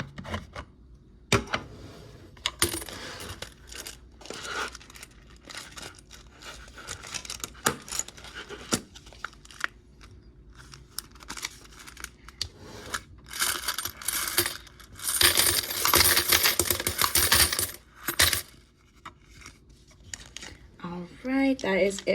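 Coins clink and rattle again and again as they drop during a session of stuffing cash into budget envelopes, where they pile up as heavy silver. Bursts of jingling come and go, with soft rustling and someone talking between them.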